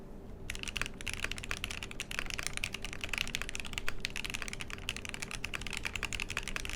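Rapid, even typing on a QK65 mechanical keyboard fitted with a PE foam mod, close and clear, a dense run of crisp clacky keystrokes continuing steadily without pause.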